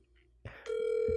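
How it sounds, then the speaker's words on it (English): A phone call's ringback tone sounds as the line rings, a steady electronic tone beginning after a couple of soft clicks, clear and close. "It's ringing."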